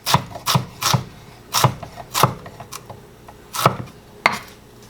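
While a Spam burrito is prepared, a knife chops food on a board in a close, uneven series of about nine sharp strikes, some with a light scraping rub and short pauses between them. No one talks.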